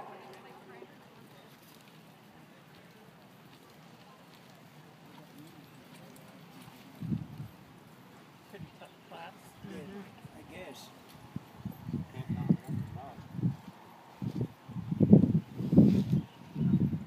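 Horses walking in a junior pleasure show ring, faint at first, then a series of soft, rhythmic hoof thuds growing louder toward the end under quiet ambient noise.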